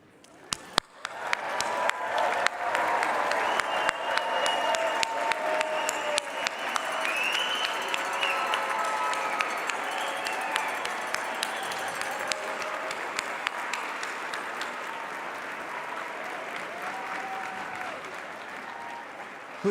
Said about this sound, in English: Let's stand, all of us, and applaud with vigor and